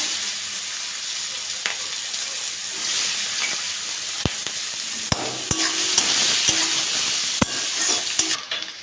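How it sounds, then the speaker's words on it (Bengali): Sliced onions frying in hot oil with cinnamon, cardamom, cloves and bay leaves, a loud continuous close sizzle broken by sharp clicks of a spatula stirring against the pan. "পেঁয়াজটা একটু ভেজে নেবো"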